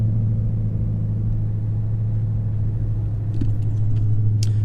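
A Dodge Charger Hellcat idles with a steady, deep low rumble heard from inside the car, constant and close, with a few small jingling clicks near the end.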